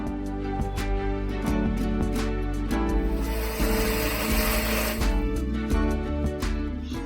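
A kitchen mixer grinds a masala paste of garlic, kokum and water with a steady, loud whirring drone, its tone roughening into a harsher churn midway before settling again, with no voices.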